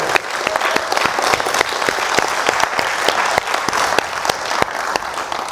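Sustained, dense applause from an audience at a national student poets appointment ceremony, loud and steady throughout with sharp individual claps standing out, no talking over it.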